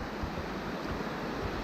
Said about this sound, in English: and the water is moving very quickly.